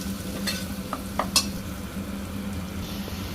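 Jackfruit seed curry being stirred in an oily pan, a soft sizzle running underneath a few quick scrapes and clinks of the spoon against the pan, close up.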